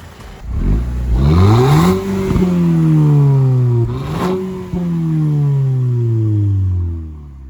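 A newly fitted engine in an Audi TT revved hard several times, loud and close, rising and falling in pitch with long sustained pulls and a slow fade at the end.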